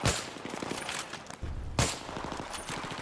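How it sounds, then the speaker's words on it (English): Sniper rifle fire in the Battlefield 3 campaign gives two sharp, loud shots about two seconds apart, each followed by a ringing, echoing tail amid other gunfire. "Love using a sniper though."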